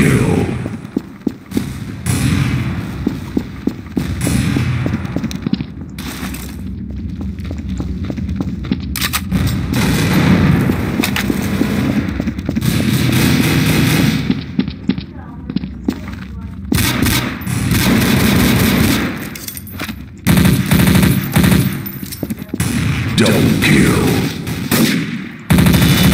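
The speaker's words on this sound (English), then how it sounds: "I think burst fire is better" Burst-fire weapons in Counter-Strike: Source, with loud, dense gunfire that runs nearly the whole time, rapid bursts layered over a busy game soundscape, and a voice talking at moments.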